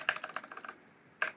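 Rapid burst of keystrokes on a worn, nearly broken computer keyboard, close and fairly loud, followed by a pause and one final sharp key press, with no talking.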